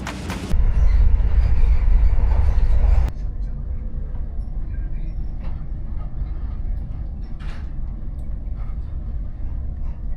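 An HST diesel train runs on the Edinburgh to Inverness service, heard from aboard as a steady, loud engine rumble and rolling rail noise, with a heavier surge at the start before settling into a constant drone.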